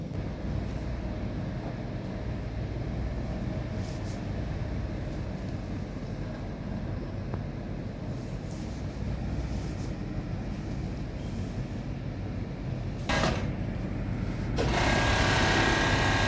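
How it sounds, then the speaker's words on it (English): A sewing machine runs steadily, stitching the inseam of a two-piece night wear garment, a continuous close mechanical whir with no talking and a brief louder burst near the end. "I'll go ahead and sew the inseam"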